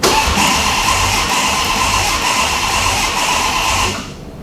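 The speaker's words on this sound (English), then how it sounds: "cranking the engine over allows me to make sure that my belt routing is going to work without the belt trying to walk back and forth" A twin-charged Magnum engine cranking over on the starter, a steady loud mechanical whirring drone that holds for about four seconds and then winds down.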